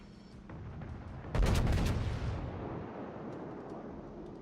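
Ship guns firing shells in World of Warships, a burst of heavy booms clustered together after a quieter lead-in, then a rumbling decay fading away.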